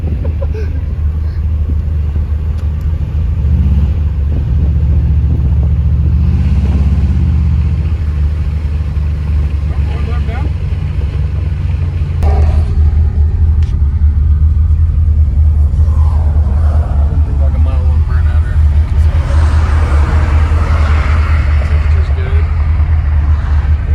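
An old Chevrolet Monte Carlo drives along with a loud, low, continuous engine rumble heard from inside the car, while people talk over it.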